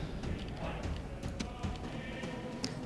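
Horse hooves clip-clop in the Rome Total War siege of Halicarnassus, a steady patter of many hoofbeats over busy battle noise, with faint voices mixed in.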